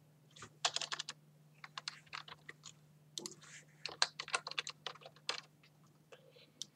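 Fingers typing a name on a computer keyboard during an online government-services registration, heard as quick, irregular clusters of close, crisp key clicks with short pauses over a steady low hum.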